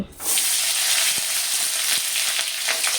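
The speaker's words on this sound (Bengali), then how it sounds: "এবার ডাঁটাগুলো তেলের মধ্যে দিয়ে দেব" Drumstick stalks drop into hot oil for a Bengali mixed-vegetable dish. A loud, close sizzle erupts almost at once and holds as a dense, steady hiss for the rest of the moment.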